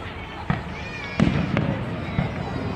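Fireworks bursting over Sacramento in December, a few sharp booms and crackles scattered across a few seconds against a steady outdoor background, with people talking nearby.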